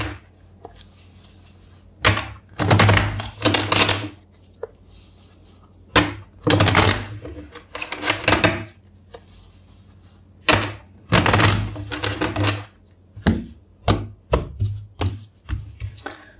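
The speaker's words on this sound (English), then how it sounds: "I will shuffle for you four times the deck." A tarot card deck being shuffled in several separate bursts, close and crisp riffling with quiet gaps between rounds.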